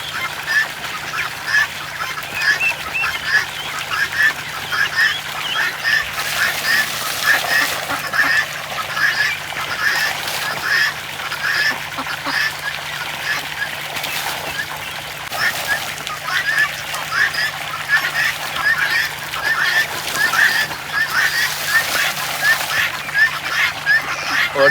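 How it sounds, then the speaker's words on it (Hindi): Ducks, geese and chickens at a fish farm, a continuous busy chorus of honking and quacking at moderate volume with a low steady hum underneath. "सारे के सारे मुर्गियाँ, बड़ी बत्तखें, छोटी बत्तखें, मुर्गे सारे वो मिलजुल के खा रहे हैं"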